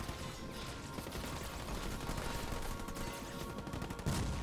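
Gunfire from units in the real-time strategy game Halo Wars 2 sounds as a dense, continuous clatter of rapid shots and explosions, with no talk over it.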